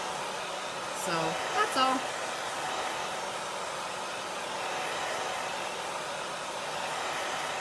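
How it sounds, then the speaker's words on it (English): Steady broadband whoosh of a hair dryer blowing continuously throughout, with a brief spoken phrase and a couple of faint tonal blips near the start. "I just use a hair dryer because it speeds up"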